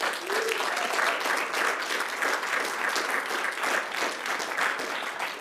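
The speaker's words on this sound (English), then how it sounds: "A round of applause for David Edney." Steady, dense applause from a theater audience at a gala evening, sustained and even throughout with no speech over it.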